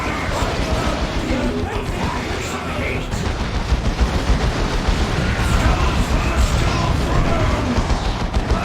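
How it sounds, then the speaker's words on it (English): Dense gunfire rattles through a battle in Warhammer 40K: Dawn of War 2, a constant clatter of shots and mechanical noise with voices in the mix. "Enemy fire! Kill those gunners!"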